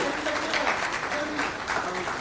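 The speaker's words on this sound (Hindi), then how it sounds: "देश दुनिया तक जोरदार तालियां होने देनी चाहिए।" Audience applause at a government event handing out appointment letters, a dense steady clapping that fills the whole span at close range with a faint crowd murmur beneath.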